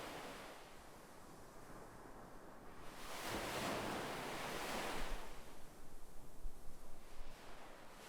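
Ocean waves wash gently onto a beach, a soft surge swelling and receding in a slow rhythm, fairly quiet and alone with a faint windy hiss.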